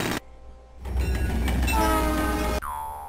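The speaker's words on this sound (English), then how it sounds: "Hear the train to come." A train in SimCity Classic rumbles past loudly with clattering wheels and a tonal horn blast near the end, after which the sound cuts off abruptly to quieter game audio.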